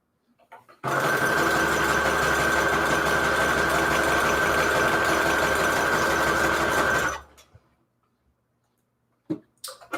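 A sewing machine runs a zigzag stitch through a paper envelope in one continuous, close, loud burst of about six seconds with a fast mechanical rhythm, then stops, followed by a couple of brief clicks.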